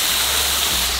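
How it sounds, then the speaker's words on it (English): Small waterfall in Central Park, New York City, a loud, constant rushing and splashing of falling water, close and unbroken, with a low rumble underneath. "check this out, a waterfall in Central Park"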